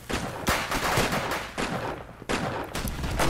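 Gunfire in the video game Roblox Arsenal, rapid repeated shots in close bursts with a few sharp louder cracks.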